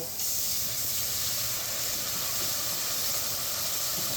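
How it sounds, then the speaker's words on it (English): White wine poured into a hot pan with capers gives a loud, steady hiss of steam and spattering that holds unbroken from start to finish, with no one speaking. "now will be the time that we're gonna add our white wine"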